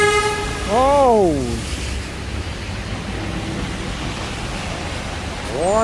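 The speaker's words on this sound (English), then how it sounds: "What a noise! Big trucks." Big trucks blare their horns on a rainy New York City street, loud harmonic honks near the start and again at the end over steady traffic and rain hiss.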